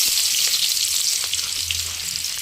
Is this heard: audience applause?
no